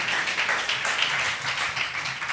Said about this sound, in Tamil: நல்ல ஒரு கைத்தட்டு கொடுங்க பாப்பா